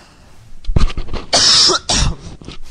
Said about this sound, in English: I'm really sorry about the cough, guys.